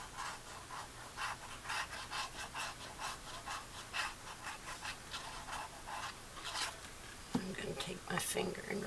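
A fingertip rubs paper down onto chipboard over glitter glue on a flange of a handmade folio, giving a soft, close, repetitive scratchy rasp under a quiet room, ending in a brief louder rustle.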